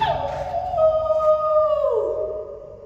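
A dog gives one long, loud howl that holds steady and then slides down in pitch before fading, heard close with faint background noise.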